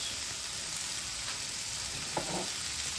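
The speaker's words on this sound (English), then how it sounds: "we throw in the rice" Rice sizzles in a hot pan for teriyaki chicken, a steady close-up crackle that holds throughout with a brief rise in hiss as more rice hits the pan.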